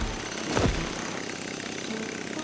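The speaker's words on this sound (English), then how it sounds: "We need to stop that drill, Morphle." A cartoon drill runs with a rough, continuous mechanical grinding, a sharper burst early on then a steady moderate drone throughout, with no voices.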